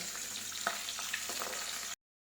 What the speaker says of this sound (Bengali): একদিকে মাছের মাথাটা ভাজতে দিয়েছি